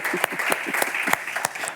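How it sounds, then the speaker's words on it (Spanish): Brief applause from an audience at a literary talk, welcoming speaker Sonia Oliveira; dense clapping with a few sharper claps standing out, steady and close, no voices. "Un aplauso para ella."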